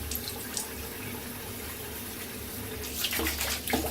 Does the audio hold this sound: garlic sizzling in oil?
no